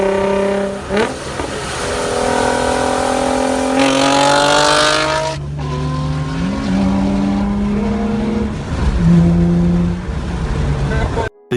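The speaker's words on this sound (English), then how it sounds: "Coming in at number 3, the Infiniti G35 Coupe." Infiniti G35 Coupe engine revving up through rising tones, then a gear change and further steady acceleration with shifting pitch, loud and close throughout.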